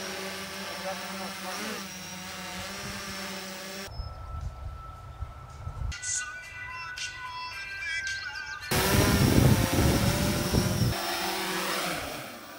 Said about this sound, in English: Jeff is gonna bust out the Typhoon H quad